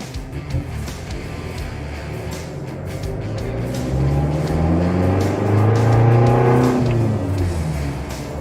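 A 2016 Isuzu D-Max 1.9 pickup truck engine revs hard during a test drive, its pitch climbing and sweeping up and down as it accelerates, loud and close, with no talking.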